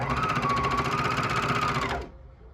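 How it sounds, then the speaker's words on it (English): A sewing machine stitching fabric while sewing a Lowland Kids Leo pattern: a close, loud, fast steady whirring hum with rapid needle ticks for about two seconds, then it stops abruptly, leaving faint room noise. "So I'm gonna put the foot down and I'm gonna start sewing."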